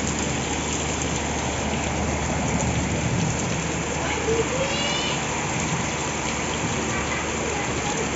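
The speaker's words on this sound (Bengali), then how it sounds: "একটানা বৃষ্টি আজকে 3 দিন ধরে।" Continuous heavy rain pours steadily during a days-long downpour at a flooding home, a dense, even hiss close by that never lets up, with a few faint bird-like chirps above it.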